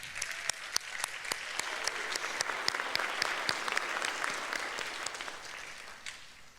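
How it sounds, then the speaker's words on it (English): Graduation ceremony audience applauds staff with sustained clapping that holds steady for several seconds, then gradually thins and fades toward the end, with sharp individual claps standing out in a large room. "Students, let's give our staff a round of applause."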